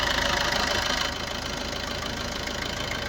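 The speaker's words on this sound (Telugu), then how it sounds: "ఇంజన్ సౌండ్ కూడా చూసుకోవచ్చు" A 2013 Maruti Suzuki Ertiga VDi diesel engine idling close by with a steady, knocking rumble that dips slightly in level partway through and then holds even.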